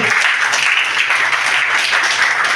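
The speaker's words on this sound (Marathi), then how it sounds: "जोरदार टाळ्यांच्या गजरामध्ये" Loud, sustained applause from an audience at a Dr. Babasaheb Ambedkar Jayanti celebration at St. Joseph's, dense steady clapping filling the whole stretch without a break.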